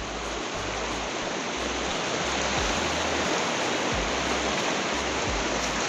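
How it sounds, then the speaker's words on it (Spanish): A small river flows along a trail, a dense steady rush of water heard close up, with faint low thumps underneath and no voices. "a cruzar este río."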